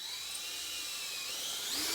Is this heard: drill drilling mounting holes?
yes